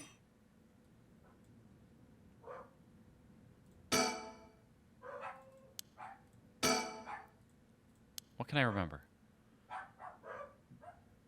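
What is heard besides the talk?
dogs barking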